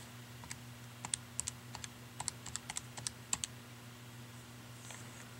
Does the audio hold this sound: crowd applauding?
no